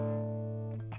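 Electric guitar through a distortion pedal with the gain backed off to a smoother overdrive setting, a sustained harmonically rich chord ringing loud and alone before fresh picked notes enter near the end.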